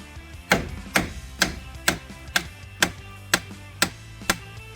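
A hammer taps a CV shaft out of a Subaru Impreza Outback, with the nut left on the end: about nine sharp metallic strikes land in a steady, evenly spaced rhythm, close by, with no talking.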